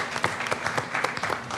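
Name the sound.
audience applause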